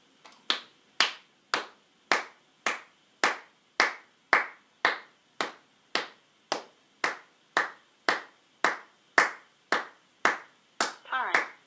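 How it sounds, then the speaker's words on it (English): A person claps their hands in a slow, even rhythm, about twenty crisp separate claps roughly half a second apart, close and clear in a quiet room during relaxation training for a dog named Abby. "Sit for 10 seconds while you clap your hands."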